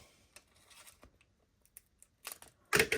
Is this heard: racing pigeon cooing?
no